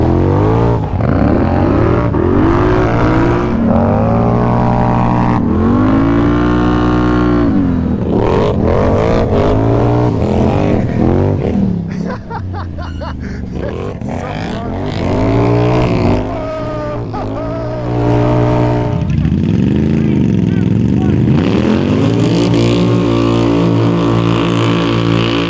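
A Polaris Scrambler XP1000S and a Can-Am Renegade 1000 ATV racing, loud engines revving and rising in pitch as they accelerate, dipping briefly midway before roaring again.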